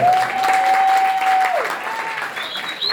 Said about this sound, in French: un grand applaudissement pour le ministère